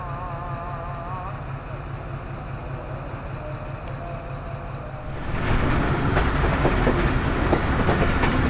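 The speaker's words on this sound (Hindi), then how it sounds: "अभी जाफर एक्सप्रेस और हजारा एक्सप्रेस का क्रॉस हुआ है काला गुजरां रेलवे स्टेशन पर" The Jaffar Express passenger train runs while crossing the Hazara Express at Kala Gujran station in Pakistan: a steady rolling rumble that jumps to louder, closer clattering wheels partway through, with no talk.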